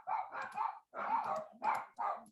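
Neighbours' dogs bark in a series of five rapid, mid-distance yapping bursts with short pauses between, heard faintly through a room during an online session.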